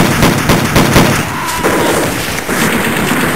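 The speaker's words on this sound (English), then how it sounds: "We're taking heavy enemy fire!" Heavy enemy gunfire hammers close and loud in rapid bursts of shots. It fades into a rough, rumbling lull, then a fresh volley breaks out near the end.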